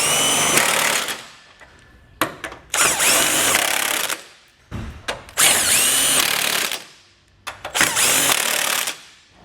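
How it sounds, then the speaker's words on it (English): A power tool with an 18mm socket runs down factory nuts on a Stealth hidden hitch receiver being installed on a 2015 BMW X5. It comes as four or five loud whirring bursts of a few seconds each, with brief pauses between. "We can then snug everything down with our 18mm socket."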